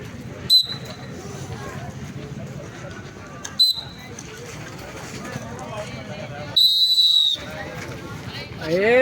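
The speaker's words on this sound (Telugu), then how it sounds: "Follow the whistle. First whistle, second," Short sharp whistle blasts, three of them spaced apart, the last held longer, at shot put practice, over a busy background of movement and distant voices.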